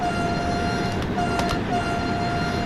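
An F7 locomotive horn in Train Sim World 2, on the Hauptstrecke Rhein-Ruhr line, sounds as a steady tone over rumbling train noise, cutting out briefly and then resuming, with no talk over it.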